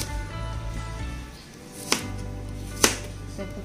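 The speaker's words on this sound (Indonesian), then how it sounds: "Kita potong bawang besar," Two sharp knife chops, well apart, as a large onion is cut on a board for a shrimp and petai sambal, close and fairly loud over a steady low hum.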